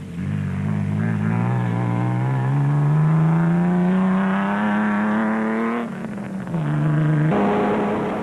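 A blue Ford rally car in Class D of the Limpopo 400 rally raid, engine loud and close and rising steadily in pitch as it accelerates, then a sharp gear change and renewed revving.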